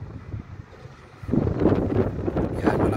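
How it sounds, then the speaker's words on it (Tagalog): Strong wind buffets the microphone with a low roar that swells and stays loud through the second half, outdoors with no clear talk. "Yan, malakas ang hangin guys."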